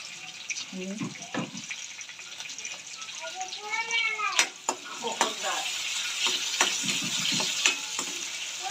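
Onion, garlic and green chillies frying in a pan, a continuous sizzle with clinks and scrapes of stirring, while a person talks over it for most of the stretch.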